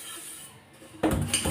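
A large rice-cooking pot being washed, starting with a quiet stretch and then a sudden close burst of scraping and rattling metal that continues loudly to the end.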